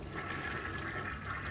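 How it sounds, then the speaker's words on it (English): A toilet flushing in the video game Heavy Rain: a faint, steady rush of water that runs unbroken from start to finish. "We should probably flush that, shouldn't we?"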